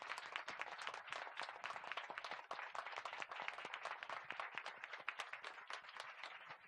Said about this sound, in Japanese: お二人に盛大な拍手をして終わりたいと思います